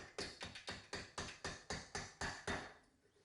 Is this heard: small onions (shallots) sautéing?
no